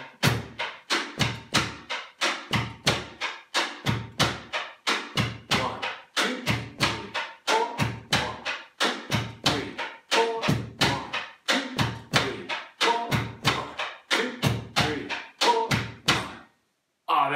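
A washboard played in a Latin rhythm with foot stomps, steady repeating scraped and tapped strokes with low thumps looping evenly and loudly for the whole stretch, then stopping abruptly near the end.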